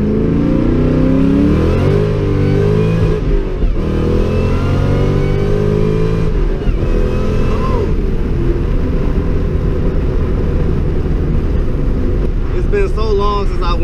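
A tuned Ford Mustang Cobra with a dirty air filter pulls at wide open throttle, its engine note climbing loud and close through rising revs, with a shift break and repeated pulls.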